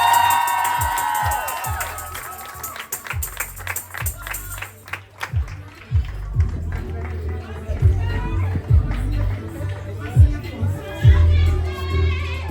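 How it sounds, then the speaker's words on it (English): A school crowd at a high school awards ceremony cheers, shouts and claps for an honoree, loud sustained whooping and applause with someone speaking over the noise through a sound system. "Hear them cheering you on, Tricia."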